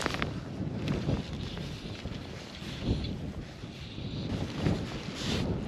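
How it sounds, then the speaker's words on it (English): Wind gusting outdoors beside a trout fishing water in winter, a loud, steady buffeting roar with rumbling microphone noise and a few stronger gusts, no talking. "This wind is playing havoc."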